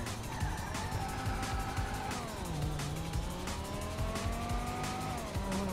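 A rally car, with a BMW M4 among the field, races past with its engine revving and its pitch swooping up and down as it shifts. Tires squeal and the sound stays loud and close.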